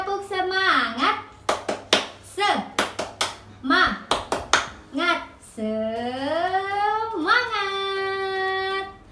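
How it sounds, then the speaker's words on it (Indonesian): Children chant and clap in rhythm in a classroom, sharp bursts of claps grouped between short sung phrases, with an adult voice leading near the mic. "Sebelumnya kita tepuk semangat dahulu ya. Tepuk semangat."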